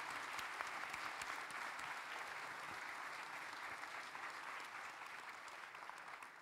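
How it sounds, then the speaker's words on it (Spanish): A film festival audience applauds four panel guests, steady dense clapping sustained evenly throughout at a fairly distant, soft level. "un aplauso, por favor, para los 4"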